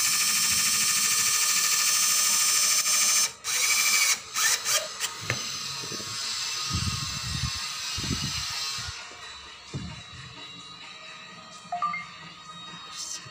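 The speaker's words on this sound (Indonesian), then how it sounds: "kita bor, kita pasang." A power drill whirs in bursts, drilling into a wall to mount a wall clock hanger, with mechanical ratcheting and clicking, close by; the motor stops and restarts a few times.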